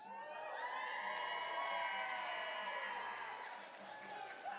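An in-person crowd at a Games Done Quick speedrun event cheers and whoops, a sustained mass of shouting voices that swells and slowly tapers over a few seconds.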